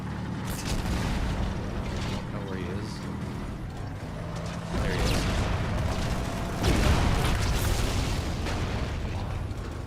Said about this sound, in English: There's one over here in the dark zone that's shooting rockets.